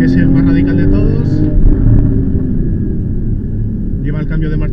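Porsche GTS sports car driven hard on the Ascari race circuit in Sport Plus mode, its engine held at high revs as a continuous gritty rumble beneath a voice talking over it from inside the car.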